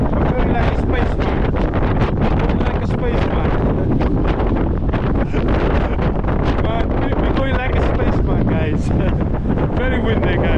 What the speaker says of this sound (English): Absolutely crazy windy. Very, very windy.